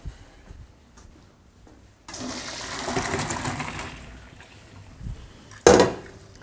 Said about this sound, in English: So I'll strain these into a colander.